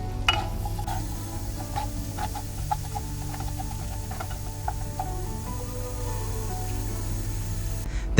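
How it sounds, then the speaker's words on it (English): Soft scraping and clicking of a utensil stirring chickpeas and warm spices sautéing on low heat in a skillet, with faint steady sizzle and irregular light taps throughout, close and gentle. "Sauté everything on low heat for about 5 minutes,"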